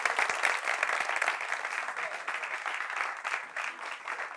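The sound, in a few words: audience applause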